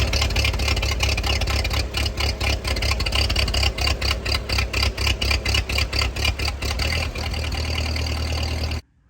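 A 1949 Ford 8N tractor engine runs at about half throttle with a steady low chugging idle, close and loud, with rhythmic pulsing throughout before cutting off abruptly at the end.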